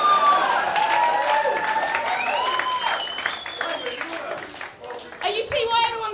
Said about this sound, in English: You see why everyone's cheering, Dean?